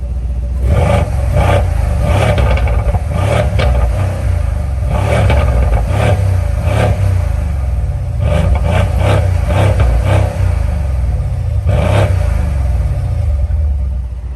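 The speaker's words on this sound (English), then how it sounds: "the V8 is just amazing in this car." Mercedes C63 AMG with its M177 4-liter twin-turbo V8 revving, a loud, steady engine roar with repeated throttle blips and deep rumble running throughout.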